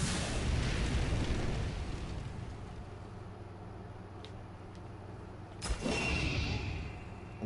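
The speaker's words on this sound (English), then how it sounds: "I'll go ahead and let that dragon breathe his fire" A dragon in the video game Death's Gambit breathes fire, a loud sustained roaring rush that fades into a lower rumble, followed by a sharp burst near the end.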